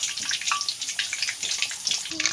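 Hand-made potato spring rolls deep-fry in hot oil, giving a close, continuous crackling sizzle with irregular bubbly bursts.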